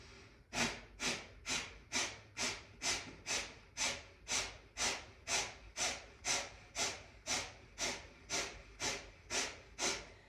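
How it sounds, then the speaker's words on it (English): Rapid rhythmic nasal breathing in kundalini-style breath of fire yoga practice, about twenty quick sharp exhales at an even pace, close and clear with no talking. "then begin breath of fire, and it'll look like this."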